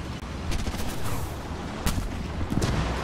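Anti-aircraft vehicle firing in War Thunder during a Panzer IV C match, heard as dense, steady rattling bursts over a noisy battlefield bed, with a few sharper cracks standing out toward the end.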